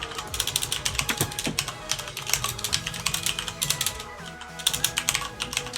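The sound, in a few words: furious typing on a computer keyboard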